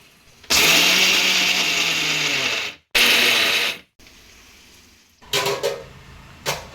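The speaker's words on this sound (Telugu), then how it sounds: "మిక్సీ పట్టేసుకుందాం చట్నీ" A kitchen mixer grinder grinding chutney with raw garlic, running in two loud whirring bursts with short pauses, then a clatter and a brief final spin.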